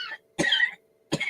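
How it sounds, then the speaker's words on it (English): A person coughs into a microphone during a live online quiz chat, a short hoarse burst followed by a longer rough cough and the start of another, close and fairly quiet. "Excuse me for coughing."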